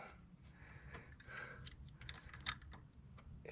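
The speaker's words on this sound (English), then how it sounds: "So I'm just gonna slice it with my razor blade." A razor blade slices through an old, worn hood release cable on an EK Civic, giving faint, close scraping and small clicking cuts in an irregular run against low background noise.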